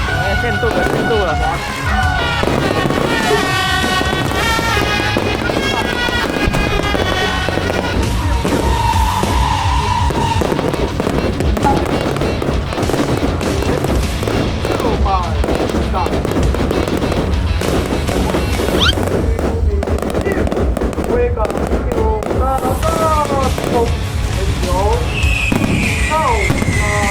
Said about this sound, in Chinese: 哦，烟火，没有想到嘞，完全没有想到。